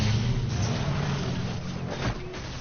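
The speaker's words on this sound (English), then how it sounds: "Those are some sick brakes on that car." A car's engine in the video game Batman: The Enemy Within rumbles steadily, then a short burst of braking noise near the end, with no talking.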